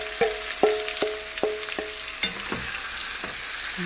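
Chicken sautés in a pan for sinangkutsa, a loud close sizzle marked by a quick run of ringing metal spoon taps and scrapes over the first two seconds, then steadier frying.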